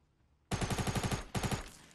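Rapid automatic gunfire from Fortnite Battle Royale bursts out loudly, firing about nine evenly spaced shots, then a short pause and three more.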